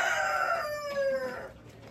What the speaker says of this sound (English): I'm gonna let you go because of this rooster.